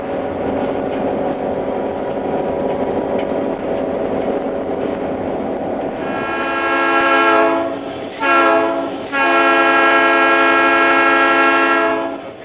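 A locomotive at the Western Pacific Railroad Museum in Portola, California sounds its multi-tone air horn in long loud blasts, with a brief break between them, over a low rumbling engine.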